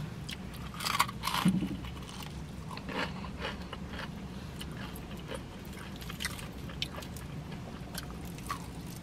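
Crunchy bites into crispy Jollibee fried chicken, close-up, with a couple of crackling bites early on followed by softer chewing and faint crunches.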